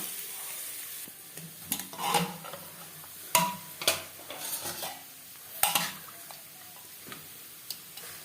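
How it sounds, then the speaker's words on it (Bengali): Boiled potatoes frying lightly in a pan with salt and turmeric for a mutton curry, with a soft sizzle under irregular scraping and clattering stir strokes, some sharp and close, spread across the stretch. "স্বাদ মতো লবণ লবণ হলুদ দিয়ে আলু হালকা করে ভেজে দেব"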